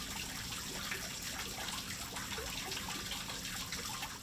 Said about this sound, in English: They also worry it could pollute a rare artisan well nearby where water naturally bubbles up from the